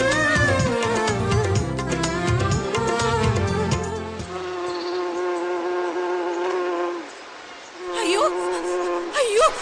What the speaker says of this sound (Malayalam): രക്ഷിക്കൂ, ഈ വണ്ട് എന്നെ ആക്രമിക്കുന്നു